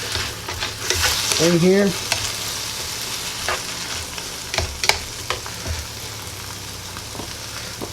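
Spam and chopped vegetables for breakfast fajitas sizzle steadily in a hot pan while a utensil stirs and scrapes through them, close up, with a brief spoken remark near the start.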